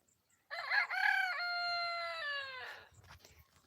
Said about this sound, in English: My chicken have really grown.